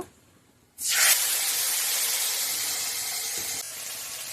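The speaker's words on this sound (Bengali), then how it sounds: "এখন আমি মশলা পেস্টটা ঢেলে দিব" Spice paste hits hot oil already fried with cumin, cinnamon and cardamom for chal potol, bursting into a loud, steady close sizzle that starts abruptly and holds for several seconds.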